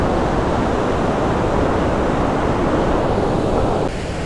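Roaring glacier meltwater waterfall at Briksdalsbreen in Norway, a dense, continuous loud rush of falling water with no pauses, dropping slightly in level at the very end, with no voices.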